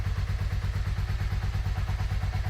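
A Yamaha Virago 535 motorcycle engine runs just after a battery change, its steady, even thumping pulse loud and close, alone without any voices.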